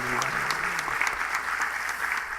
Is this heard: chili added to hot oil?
no